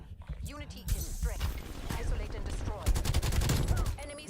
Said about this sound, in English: I hear some shooting going on.